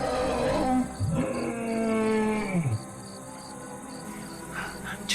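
An unknown creature howls in successive rising and falling cries at a short distance, long drawn wails layered over a steady chorus of night insects, with no voices.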